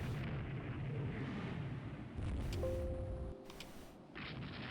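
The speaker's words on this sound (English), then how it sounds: "we are hitting some of the ones over here with torpedoes too." Torpedo hits explode in the naval strategy game Rule the Waves 2, giving a sustained, rumbling blast with a deep low-end roar that swells and fades over several seconds, with a brief whistling tone partway through.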